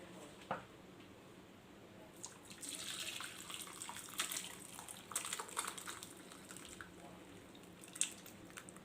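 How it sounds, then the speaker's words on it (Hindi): Tap water runs faintly onto fresh chenna held in a damp muslin cloth, a soft, uneven splashing and trickling that swells in the middle stretch and carries a few small drips, with no voice over it. "इसी में मैं मज़ीद थोड़ा सा पानी डालकर, टैप वाटर डालकर, ताज़ा पानी डालकर इसको मैं थोड़ा सा मिक्स करूँगी।"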